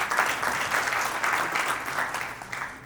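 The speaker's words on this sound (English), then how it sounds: "Please give a big round of applause to yourself." An audience at an Indian American business council community event applauds steadily throughout, a dense, moderately loud wash of clapping heard alone.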